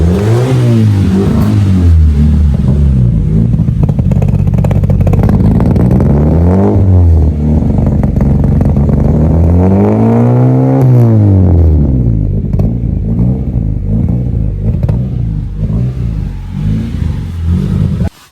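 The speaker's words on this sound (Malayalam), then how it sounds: "അപ്പൊ അതാണ് നമ്മളെ വണ്ടീന്റെ സൗണ്ട്" A car engine revs repeatedly, rising and falling in pitch in long swells, loud and close throughout with no talk.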